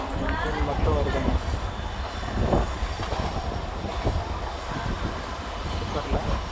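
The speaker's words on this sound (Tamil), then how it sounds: "இது ஒரு ட்ரெயின் வருது." A lone locomotive engine with no coaches rumbles in near Tenkasi railway station, a steady low rolling roar with faint clatter, with voices talking over it.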